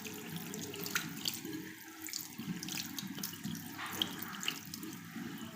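Tap water runs steadily into a sink during face washing, a close, quiet continuous splashing hiss with no talking.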